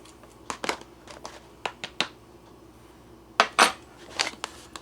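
Crinkly plastic rustles and sharp clicks of a spoon stirring freeze-dried taco noodles inside a pouch, several quick bursts in two clusters with quiet gaps between.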